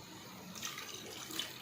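Water, about one and a half glasses, is poured into homemade garlic ketchup cooking in a pot, making a soft continuous splashing stream that swells slightly midway.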